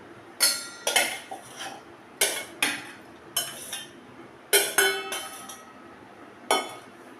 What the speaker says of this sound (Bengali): এখন আমি এটা একটা মিক্সিং জারে ঢেলে নেবো